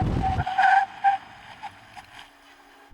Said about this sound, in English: Now I'm going to hit the brakes hard.